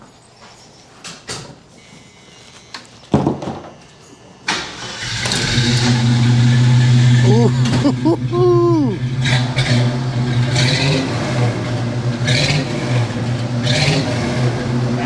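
A 1979 AMC AMX with a new exhaust cranks, fires and settles into a loud, deep idle with several revs rising and falling, close by, while people exclaim briefly over it.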